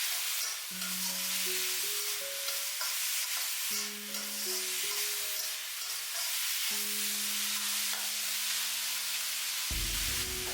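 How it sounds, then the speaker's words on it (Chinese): Drained white beech mushrooms are stir-fried quickly with bitter melon in a wok, giving a steady, hissing sizzle throughout, with background music playing over it. "接下来把控干水分的白玉菇也倒在锅中，快速翻炒均匀，使白玉菇和苦瓜完美的融合"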